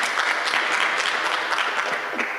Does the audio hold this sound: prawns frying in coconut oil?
no